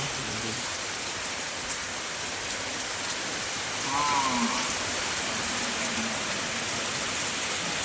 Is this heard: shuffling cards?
no